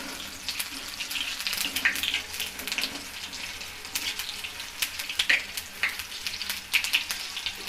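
Tomato bhajiya fry in hot oil with a steady crackling sizzle and scattered sharp pops throughout, close up and with no voices.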